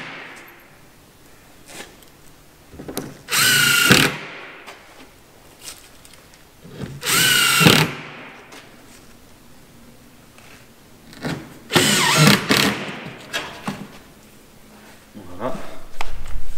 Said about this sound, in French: Donc on va percer et on va mettre directement un boulon avec une rondelle.